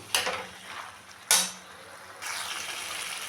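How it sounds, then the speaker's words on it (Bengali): Masala spice paste with chili powder fries in a pan, with two sharp clinks of a spoon against the pan followed by a steady, soft sizzle; faint and close. "আবারও মশলাটাকে ভালো করে কষিয়ে নেব"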